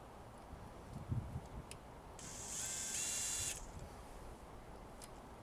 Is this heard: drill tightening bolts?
yes